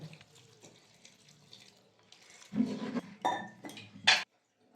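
Water poured over chopped banana flower with salt and turmeric in a pot for cooking, a short splashing pour that swells, then a clink before stopping abruptly.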